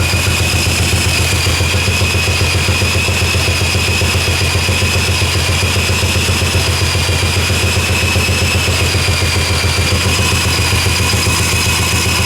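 A Honda three-wheeler motorcycle engine runs at a steady idle, a continuous low rumble with a faint whine above it, holding even throughout.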